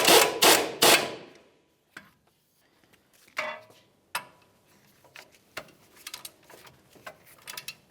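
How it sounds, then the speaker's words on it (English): A 21mm socket on a ratchet snugs and torques the upper ball joint nut of a 2005-2010 Dodge Dakota, opening with three loud close ratcheting bursts, then scattered lighter clicks and metallic taps. "We'll use a 21mm socket for this. Snug it and torque it to 70 foot-pounds."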